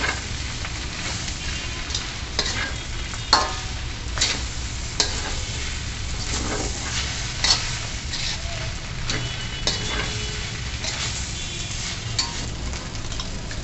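Rice noodles are tossed with chicken powder and black pepper in a pan, giving a continuous scraping, rustling mix with intermittent clacks of a utensil over a steady sizzle, close and moderately loud.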